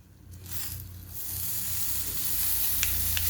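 Food fries in cooking oil in a pan, a steady close sizzle that swells louder after a moment, with a few light scraping clicks near the end.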